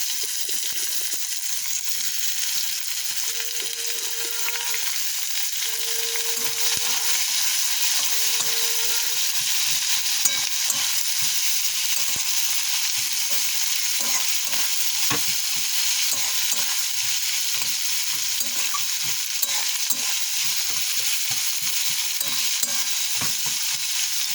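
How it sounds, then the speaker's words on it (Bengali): Onion fries in a pan after garlic with a steady sizzle and occasional stirring clatter of a spoon, continuous and close, with a few brief tonal beeps early on. "রসুনটা লাল লাল হয়ে গেছে, আমি এখন পেঁয়াজটা দিয়ে দিলাম।"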